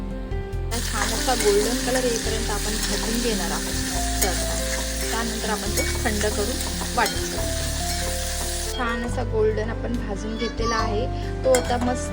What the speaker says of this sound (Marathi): तो आपण छान असा तेलामध्ये भाजून घेणार आहोत जोपर्यंत ज्याला गोल्डन कलर येत नाही तोपर्यंत